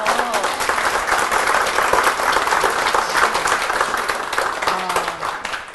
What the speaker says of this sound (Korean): 여러분, 사랑의 박수 좀 보내주세요.